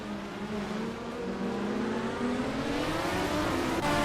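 AI race cars in a car racing video game, a steady engine drone whose pitch climbs and shifts as the cars rev and accelerate, loud and continuous with no talk.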